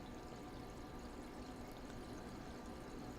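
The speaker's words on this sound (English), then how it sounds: "I don't know if you can hear that water running, but I got a pipe right next to me" Water flows steadily through a pipe right beside a room, a faint, continuous rushing hiss that stays even throughout without pauses.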